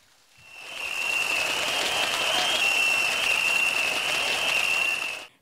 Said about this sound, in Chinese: 大家能热烈的掌声来欢送这个